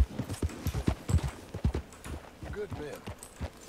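An Arabian horse's hooves clip-clop at a walking pace in Red Dead Redemption 2, uneven, fairly close thuds repeating under someone talking.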